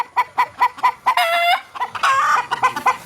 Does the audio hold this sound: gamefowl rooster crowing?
yes